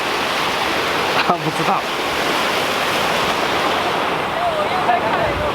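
Water rushes loudly and steadily from a drainage outlet into a river, a continuous broad roar that fills the whole clip, with a brief spoken remark partway through.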